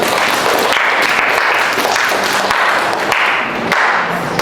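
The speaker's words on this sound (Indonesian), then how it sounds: "Tepuk tangan buat kelompok 5." Classmates in a school classroom give a student group a round of applause, a dense, steady wash of many hands clapping throughout at close range, with no talk over it.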